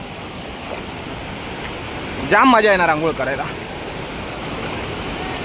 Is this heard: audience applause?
no